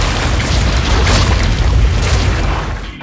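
A bloated, rotting giant monster corpse bursts in a film scene, producing a loud, sustained, rumbling boom that fills the whole moment and fades only slightly at the end, with no voices.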